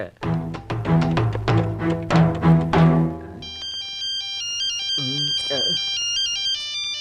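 A ringing bell or tone sounds steadily and clearly while a voice talks over it, the ringing carrying on after the speech as a sustained chime, attributed to an ice cream vendor's bell.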